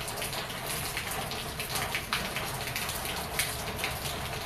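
Steady rain pattering on a surface outdoors in cool, fresh weather, a dense continuous hiss of drops with occasional louder splashes, no voices.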